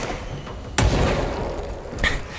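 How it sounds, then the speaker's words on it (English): A grenade explosion in the video game Control, one sharp loud blast followed by a rumbling decay, then a second smaller burst, close and alone with no talking. "Oh, that is a grenade"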